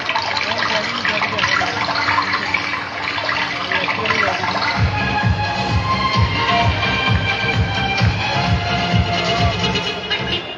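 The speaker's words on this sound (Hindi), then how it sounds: "उसी प्रकार हमारे छोटे से लोटे का पानी कभी खत्म नहीं होता" Water streams steadily from a small lota pot during a stage magic show, a continuous loud splashing pour that carries on throughout.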